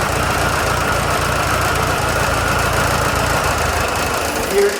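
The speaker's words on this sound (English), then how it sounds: "I'm adjusting the mixture screw so you can hear the highest idle." A 1972 VW Super Beetle air-cooled engine idles steadily and close by while its mixture screw is adjusted, holding an even, continuous rumble with a slight lift right at the end.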